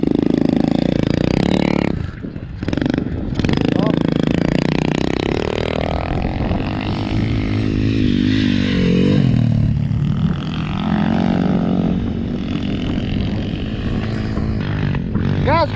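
A child's motocross motorcycle at a motocross club revs loudly and continuously close by, its engine note rising and falling with a brief dip near the start.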